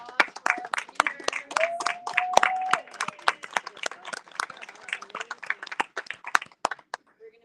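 Applause for the leaders at a live community event: a small group's sharp, uneven handclaps rattle at close range for several seconds, with a voice briefly heard among them before the clapping thins out.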